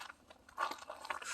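Ice-glazed ground on an Appalachian farm crunches underfoot at about 30°F before a blizzard, giving a close run of irregular, brittle crackling bursts with no voices.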